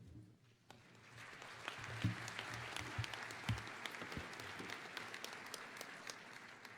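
Applause at a university commencement welcomes the chancellor to the podium, a soft, distant crowd clapping that swells slightly and continues alone without speech.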